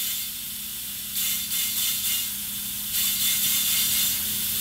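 Compressed air from a shop compressor hisses into an oil pump priming tool for an LT1 engine, a steady high hiss that swells in a few short bursts over a low mechanical hum.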